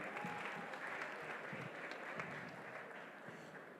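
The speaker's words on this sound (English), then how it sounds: "Please, a round of applause for them again." An audience at a demo day event applauds steadily, a dense wash of clapping from a crowd that holds at an even level throughout.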